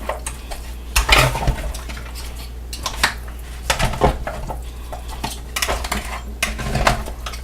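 Marinated oxtails and garlic being stirred in a bowl or pot, with loud, close clattering and scraping of a utensil against the dish in uneven bursts and no talking.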